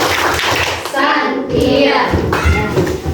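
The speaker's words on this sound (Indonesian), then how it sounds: "Kita kasih tepuk santiang untuk Al-Ghazali ya." A classroom of children doing the tepuk santiang clapping chant for a classmate, with bursts of hand claps mixed with children's chanting voices, fairly close and loud.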